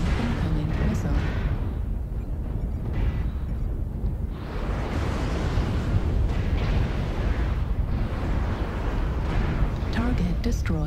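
Missile explosions in MechWarrior Online, with dense, sustained blasts and rumbling impacts filling the whole stretch, loud and close, under a steady wash of battle noise.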